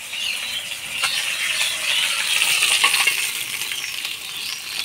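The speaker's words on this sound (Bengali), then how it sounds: "মাছের মুড়াটা আমি ভালোভাবে ভেজে নিলাম।" Fish heads fry in hot oil with a bright, crackling sizzle that swells and fades, accompanied by scattered spattering pops close by.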